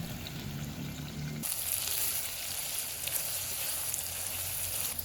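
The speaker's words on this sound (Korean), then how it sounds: "준비했던 계란을 부은 뒤에 한 번 더 볶아줍니다." Steady sizzling of eggplant and eggs stir-frying in hot oil grows louder and fuller after a moment, as a constant crackling hiss with no talking.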